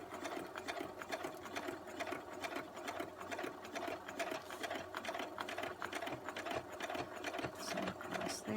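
Sewing machine stitching a zigzag stitch on a small notebook project: fast, steady mechanical whirring and rattling needle strokes, close and quiet, running continuously without voices.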